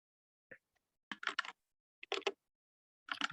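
Keys clack on an old micro switch computer keyboard, short crisp bursts of several strokes each separated by silent pauses, close and clear.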